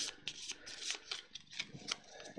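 A deck of loot cards for a board game being shuffled by hand: a quick run of papery riffles and slides, close and crisp, in short bursts with no talking.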